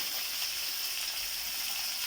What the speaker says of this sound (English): just a few minutes of sauteing.